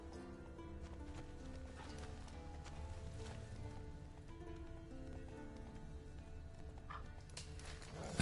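Steady hoofbeats of a horse galloping in The Witcher 3 run underneath a layered musical score, with the clip-clop continuing throughout at an even level.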